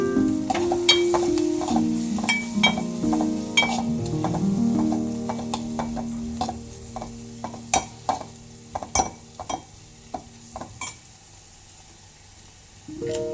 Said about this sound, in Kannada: ಇದನ್ನೆಲ್ಲ ಚೆನ್ನಾಗಿ ಎಣ್ಣೆಲೆ ಫ್ರೈ ಮಾಡ್ಕೋಬೇಕು